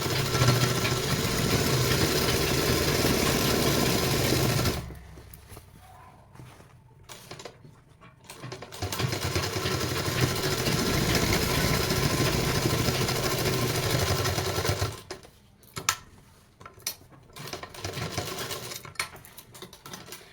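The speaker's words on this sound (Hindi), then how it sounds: "अब इलास्टिक पर सिलाई आप कपड़े को खींचकर लगाएं।" A sewing machine stitches elastic onto pant fabric in two long runs of fast, steady mechanical whirring, separated by quieter pauses with light handling noises, close and clear.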